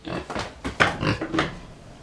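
Farm pigs, one of a small herd of four, grunt in a quick series of short, rough snorts at close range with no other sounds.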